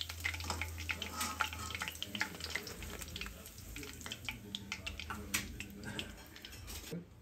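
Fish frying in a pan for a peri peri fish fry, a steady crackling sizzle with dense pops and spatters throughout, close and moderately loud, with a low hum under the first two seconds.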